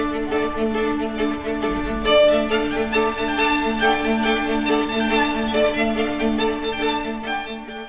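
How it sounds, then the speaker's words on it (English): A string sextet plays together in a lively, rhythmic classical passage with folk-song overtones, bowed notes layered in close harmony at a moderate volume. "what you just heard was the original string sextet version"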